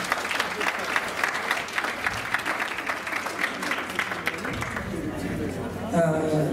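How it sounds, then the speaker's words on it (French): Audience applause fills a hall for an association at a French-language event, steady clapping for several seconds that fades out before a voice begins talking. "Applaudissez-les, s'il vous plaît."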